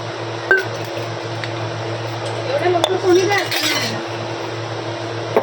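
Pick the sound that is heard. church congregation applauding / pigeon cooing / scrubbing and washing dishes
scrubbing and washing dishes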